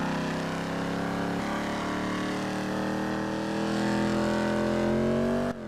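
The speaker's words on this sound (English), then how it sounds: "Half throttle this car and it's louder." In GTA Online, a car engine held at half throttle gives a loud, steady, sustained drone whose pitch rises slowly toward the end, then cuts off abruptly.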